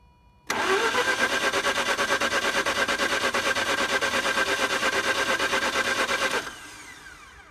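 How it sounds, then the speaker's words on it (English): A Mazda RX-8 rotary engine cranks on the starter for about six seconds, giving a loud, steady, rapidly pulsing whir that stops abruptly, followed by a faint fading tail. "Give it a second and crank it one more time to clear the lines."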